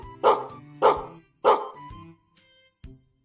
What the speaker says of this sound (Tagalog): na-record at tahol ng aso, Abudo.